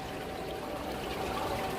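Water flowing down a statue fountain at Walt Disney World: a soft, continuous trickling pour, steady and fairly faint, with no voices.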